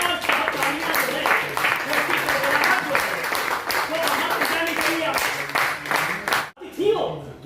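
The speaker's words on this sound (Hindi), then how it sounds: "एक बार जोरदार तालियां" At a press club ceremony, a room of people claps loudly in a dense, even burst of applause that runs several seconds before cutting off, with a voice briefly audible after.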